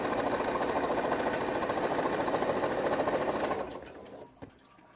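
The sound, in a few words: sewing machine stitching a quarter-inch seam on jelly roll strips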